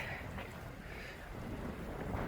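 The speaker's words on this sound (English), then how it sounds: "Fairly windy today." Faint, low wind buffeting with a soft rumble at a lakeshore, Lake Eucumbene, steady and gusting slightly over a couple of seconds, no voices.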